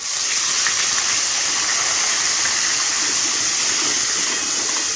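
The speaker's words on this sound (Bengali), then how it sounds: "এবার আমি দিয়ে দেবো যে পেঁয়াজটা বেটে রেখেছিলাম সেই পেঁয়াজ বাটাটা" Onion paste hits hot oil with whole spices and produces a loud, close, continuous hissing sizzle that holds steady without pause, and no voices are heard.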